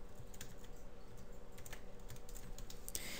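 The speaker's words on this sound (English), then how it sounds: "I'm literally going to be typing" Steady, rapid typing on a computer keyboard with a soft, continuous clatter of keystrokes throughout, at a low level with no voices.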